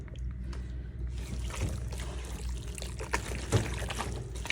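Cooking beef is tipped from one pot into another, a wet, thick pour with sloshing and a few clanks of metal, close and fairly quiet.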